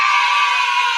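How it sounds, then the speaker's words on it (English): Audience applause and cheering at an election day recap show, a dense, steady wash of clapping and crowd noise filling the whole moment at full loudness. "Thank you for that applause."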